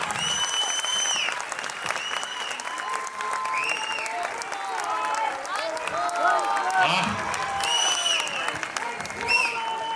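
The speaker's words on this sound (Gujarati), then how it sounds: "જોરદાર તાળીઓ" Sustained applause from a crowd fills the whole stretch, steady and dense, with voices calling out over the clapping.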